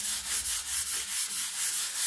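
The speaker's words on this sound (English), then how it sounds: "I'm going to give it a light sand over with this sponge pad" Sponge sanding pad rubbed over primed laminate office furniture in a light denibbing pass, a close, steady rhythm of about nine quick back-and-forth strokes with no talking.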